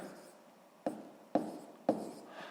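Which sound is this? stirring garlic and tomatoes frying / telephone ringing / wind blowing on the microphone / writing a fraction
writing a fraction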